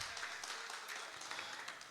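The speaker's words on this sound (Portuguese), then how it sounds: "Aplausos também para o Dr. Joaquim Branco, não é?" An audience applauds steadily for a couple of seconds, the clapping blending into a dense wash of sound.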